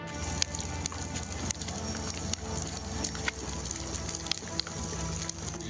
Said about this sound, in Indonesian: Api cepat melalap seluruh bagian kendaraan.